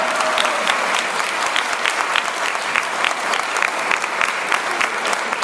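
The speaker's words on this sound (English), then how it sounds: "so you should like clap for that" A room of attendees at a political event for women veterans claps steadily and densely throughout, a bright crackling wall of applause with no pauses.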